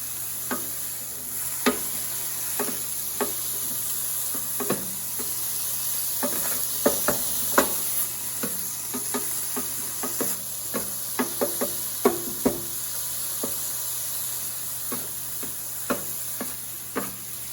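Steak, mushrooms and onions sizzle steadily on a Blackstone griddle, with a constant hiss broken by frequent light clicks and scrapes of a spatula stirring the food, close and moderately loud, with no talk.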